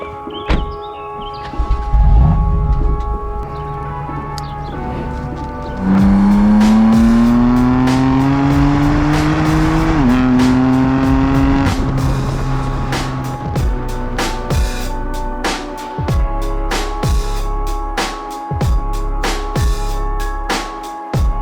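A BMW M4 Competition F82 driving on the road, its engine rising in pitch through hard acceleration, dropping on a gear change, then pulling again before settling into a rougher, thumping run with sharp pops and bangs.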